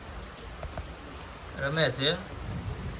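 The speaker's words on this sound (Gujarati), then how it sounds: "વરસાદ બહાર જવો ભૂકા કાઢ નાખે વરસાદ પડે છે બહાર" Heavy rain pours outside a farm shed, a steady broadband hiss of downpour that swells briefly in the middle, with a voice speaking over it.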